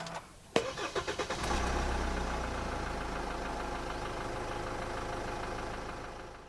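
A 2015 Hyundai Santa Fe 2.2 CRDi diesel starts by push button: a quick starter whir with a few cranking pulses, then the engine catches and settles into a steady, close, low diesel idle with no talking.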